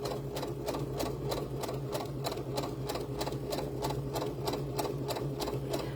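A sewing machine stitches jute loops for doll hair, a fast even train of needle clicks over a low motor hum, close and steady with no voices.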